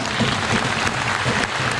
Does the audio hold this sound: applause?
yes